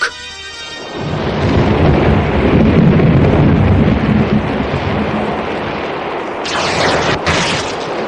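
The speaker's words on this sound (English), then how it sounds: "Then the storm broke." A dramatised audiobook thunderstorm with a loud, sustained roar of thunder and wind that rumbles on for several seconds. A gusting rush rises near the end.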